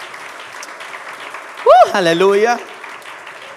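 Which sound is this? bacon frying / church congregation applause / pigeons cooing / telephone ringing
church congregation applause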